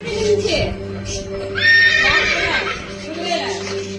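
Horse neighs and whinnies with clip-clopping hooves in a Tamil children's action song, loud and close, with a voice speaking or singing over the sounds.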